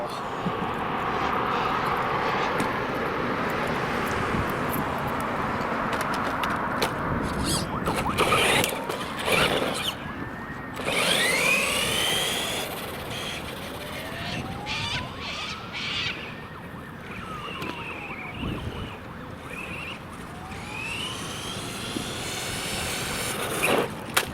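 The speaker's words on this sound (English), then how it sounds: "The 2S battery really does just like transform these cars. It makes them really fast." A VRX Octane RC car on a 2S battery races around, its electric motor whining and sweeping up and down in pitch as it speeds past and turns, with scattered rattles and a few brief voices.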